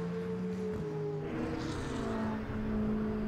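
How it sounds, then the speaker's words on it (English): A Brabham BT62 race car passes a Nissan GT3 during a GT Cup race at Silverstone, the engines droning and shifting in pitch as the cars go by at moderate distance. "So Group GTO Brabham BT62 goes past Group GT3 Nissan."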